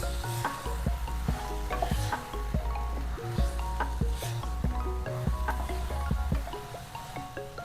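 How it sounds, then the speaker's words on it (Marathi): Methi matar malai, a fenugreek, pea and cream curry, sizzles in a pan while a spoon stirs it in steady, regular scrapes and taps that carry on without a break, close and clear. "व्यवस्थित मिक्स करून घ्या"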